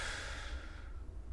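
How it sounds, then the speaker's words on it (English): A single slow, deep belly breath during a breathing exercise, a soft breathy exhale that fades away, heard close and quiet with no talking. "we try to breathe into the belly for 3 to 5 times"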